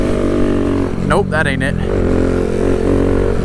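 A Kawasaki Z125 motorcycle engine drones steadily at close range during a third-gear wheelie attempt, with a sharp rising rev sweep in the middle as a rider speaks briefly over it.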